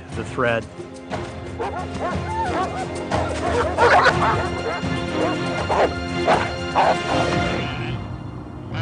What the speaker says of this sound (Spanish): el perro pastor de Anatolia ha sido criado especialmente para proteger a las ovejas de los depredadores